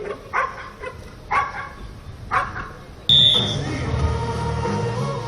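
A police sniffer dog gives three sharp barks at roughly one-second intervals, moderately close, followed by a sudden rise in broadband background noise and a brief high tone.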